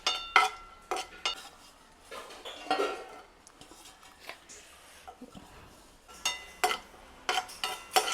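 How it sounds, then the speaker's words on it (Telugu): Almonds frying in a pan while rava laddu is made, with a metal spoon clanking and scraping against the pan in bursts of stirring over a faint sizzle. "బాదం పప్పులు వేస్తున్నాను"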